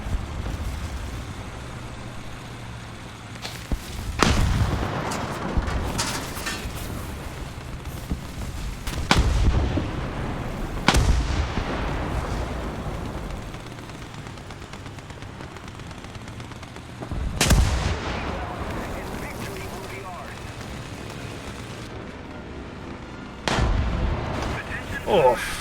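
Bombs explode in the War Thunder combat video game, several heavy booming blasts spread across the clip over a constant rumble of engine and battle noise, with occasional talk in between.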